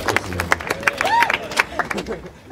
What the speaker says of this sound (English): Now the applause for Samir.